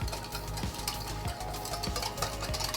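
A sauce of rice wine vinegar and cornstarch is mixed briskly in a bowl, a utensil clicking and scraping in a repeated rhythm about every half second, close and fairly quiet.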